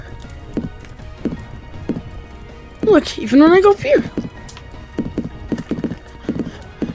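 Rapid stomping footsteps in the VR game Capuchin, a steady run of thuds throughout, with a burst of loud talk in the middle.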